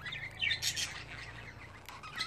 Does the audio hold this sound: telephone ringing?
no